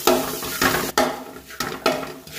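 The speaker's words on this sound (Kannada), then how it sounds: "ಈಗ ತೆಂಗಿನ ತುರಿಯನ್ನು ಹುರಿತಾ ಇದ್ದೇನೆ." Grated coconut roasting in a pan, the spoon stirring it in short scraping strokes about every half second with a soft dry sizzle underneath, close by.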